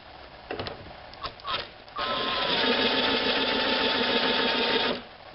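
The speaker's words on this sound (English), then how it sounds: "let's throw the impact on her and see how she turns." A few clicks and short bursts, then a pneumatic impact wrench spins a 1928 Farmall Regular tractor's magneto continuously for about three seconds, close and fairly loud, before winding down.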